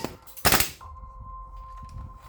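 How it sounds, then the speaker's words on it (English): Bolt of a WE 888 HK416 gas blowback airsoft rifle slamming forward to chamber a round: one sharp, loud metallic clack, followed by a faint steady tone. "releasing the bolt that will chamber a fresh round without you having to touch the charging handle"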